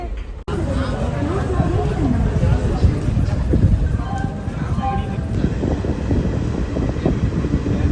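Steady low rumble and rattling of a moving train carriage in Karnataka, with people chatting and background voices throughout.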